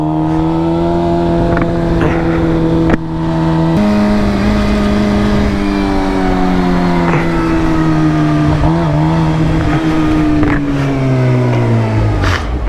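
A Suzuki GSX-R 750 motorcycle is ridden on the road, its engine droning steadily with a few shifts and slowly falling pitch, heard continuously under wind rush.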